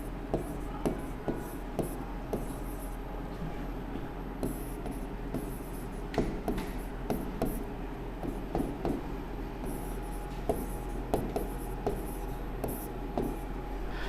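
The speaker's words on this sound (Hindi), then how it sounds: "मैंने लिख दिया" Chalk or pen scratching on a writing surface during a lesson on blood-relation puzzles, a series of quick irregular strokes and taps over a constant low hum, with faint speech in the background.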